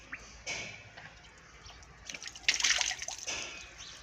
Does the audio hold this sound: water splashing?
yes